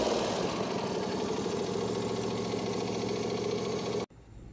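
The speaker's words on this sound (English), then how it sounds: "This engine is now cranking up fine." A repaired lawn mower engine runs steadily at close range, a loud continuous droning idle that cuts off abruptly near the end, leaving quiet low background noise.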